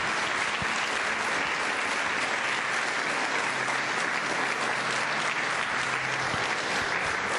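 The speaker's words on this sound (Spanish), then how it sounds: "Demos un aplauso al Cordero" A church congregation applauds together, a dense, steady wash of clapping hands that fills the room at even loudness throughout, with no voices rising above it.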